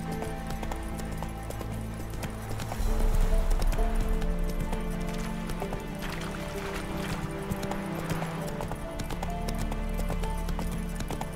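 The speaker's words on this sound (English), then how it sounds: "I do at least want to keep a little bit of the traversal" Horse hooves clip-clop steadily at a riding pace in the video game The Witcher 3, a continuous rhythmic patter beneath game music and ambience.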